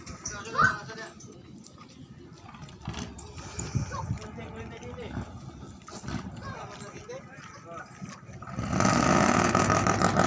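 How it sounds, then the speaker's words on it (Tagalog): A loud boat engine on a gold-hooping divers' outrigger boat in the Philippines rumbles and roars, building steadily near the end, with voices talking over the background throughout. "marinig nyo sa video ko ang laki ng boses ng kanilang engine"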